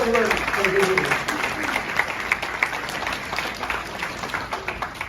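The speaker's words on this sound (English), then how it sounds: "Can we give them a round of applause?" A conference audience at an expo applauds, a broad patter of clapping that thins into scattered claps toward the end, with a voice talking over it early on.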